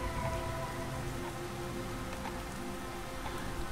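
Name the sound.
rain falling in the Starbound video game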